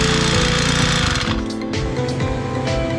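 A brush cutter engine with a freshly replaced bearing and carburetor packing runs loud and steady at close range, dipping briefly before carrying on.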